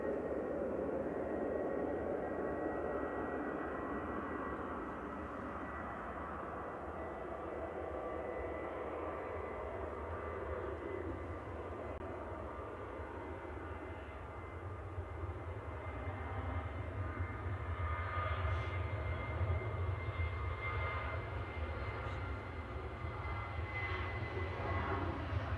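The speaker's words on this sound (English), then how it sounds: "Ryanair departing to Oslo there" A Ryanair plane departs Manchester Airport bound for Oslo, its engine roar a steady, broad rumble lasting the whole stretch, with a low hum beneath and no voices.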